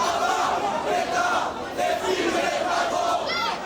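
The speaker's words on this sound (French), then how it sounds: "Certains scandent des slogans politiques." A crowd at Gare du Nord chants political slogans, many voices shouting together in rising and falling waves, dense and loud.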